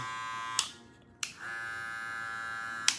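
A Babyliss LO-PRO electric hair clipper hums steadily with a bright buzzing tone, briefly cutting out and clicking back on a couple of times.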